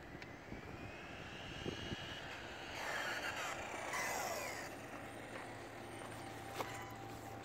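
An HSP XSTR PRO RC car on a 3S LiPo runs at full throttle, its high electric motor whine sweeping up and down as it passes at a distance, faint against steady outdoor background noise.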